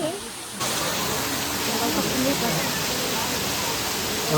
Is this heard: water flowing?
yes